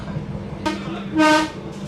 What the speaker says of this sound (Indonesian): jadi rasanya masinis ngelihat orang di depan masih ada yang nyebrang saat kita mau lewat itu, ya gitu ya, langsung bunyiin klakson